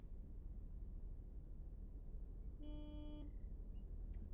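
A single car horn sounds in city rush-hour traffic in the driving game Taxi Life, one sustained honk lasting under a second over a constant low engine and road rumble.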